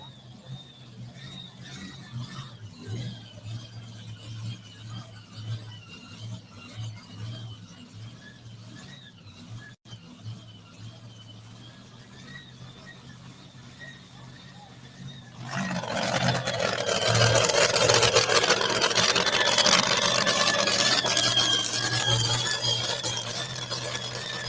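The Texas Bullseye pulling vehicle idles with a low rumble under scattered squeals, then its engine roars up to a loud, sustained full-throttle howl that holds to the end.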